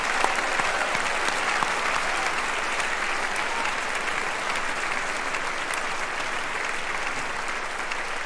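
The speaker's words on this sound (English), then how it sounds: "Please everybody join me in the applause for the class of 2022!" Steady, dense audience applause fills a graduation ceremony for the class of 2022, a continuous wash of many hands clapping at even volume throughout, with no voices standing out.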